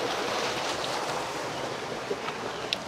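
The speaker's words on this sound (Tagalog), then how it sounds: "At doon yung lagasan ng tubig." Water rushes and splashes continuously, a small waterfall pouring into the flowing Saluysoy River in Indang, Cavite, with no voices.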